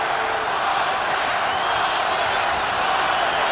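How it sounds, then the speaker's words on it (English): Boxing arena crowd at a title fight, a dense, loud, continuous roar of many voices with rhythmic chanting blended into the wash, filling the whole space with no single voice standing out. "Crowd is chanting, Oscar, Oscar, Oscar."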